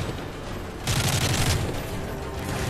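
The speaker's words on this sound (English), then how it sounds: "They're still shooting." Gunfire in Call of Duty: Modern Warfare 3, a loud burst of rapid shots in the middle of the clip over a steady rumble of battle, with no talk.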